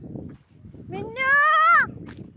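A village goat, frightened by firecrackers, gives one loud, close, rising bleat lasting under a second, with low talking voices before and after it.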